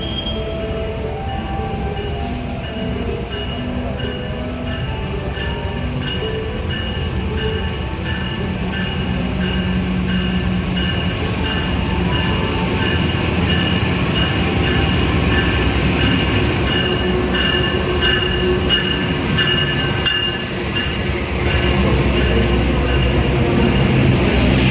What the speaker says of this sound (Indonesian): ini kereta Argo Lawu akan segera disiapkan di jalur 5 Parun Utara